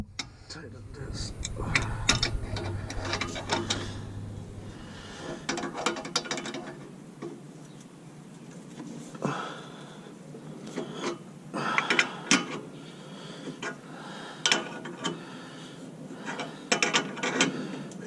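A ratchet tightens bolts on a Mini R56 downpipe in bursts of rapid, close clicking separated by pauses, with faint shuffling between strokes.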